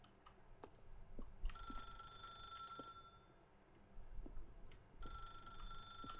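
An old-style telephone bell ringing in The Stanley Parable, two bright metallic rings about a second and a half each, separated by a pause, over a quiet room tone with faint clicks.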